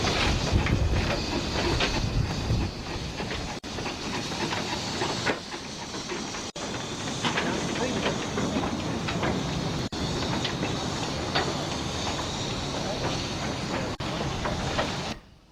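Steam locomotives moving along the Cleethorpes Coast Light Railway, a miniature line, with a steady rumbling roll and faint rhythmic clicking, heard at a distance and fairly quiet.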